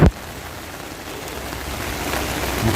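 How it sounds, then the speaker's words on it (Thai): Heavy rain falls steadily during an outdoor fishing trip, a constant close wash of drops after a brief thump at the very start. "ฝนตกยังไม่หยุดเลย"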